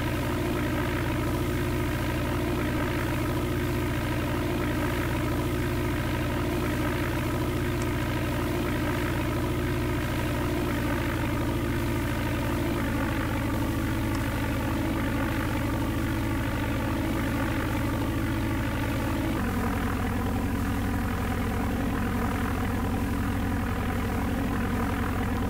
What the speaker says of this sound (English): Cessna